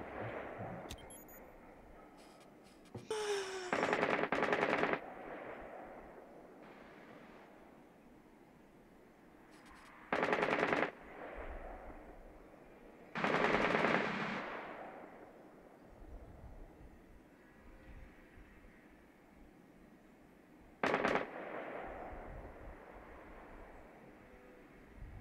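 Bursts of gunfire in Rainbow Six Siege, several short loud volleys separated by long quieter stretches of low ambient rumble, the shots coming in clusters a few seconds apart.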